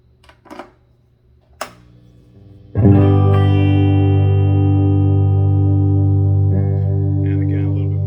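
Marshall 1987x guitar amplifier on its low channel with volume turned up: a few faint taps and a pluck, then a loud sustained bass-heavy chord ringing out, slowly decaying before a second strum near the end.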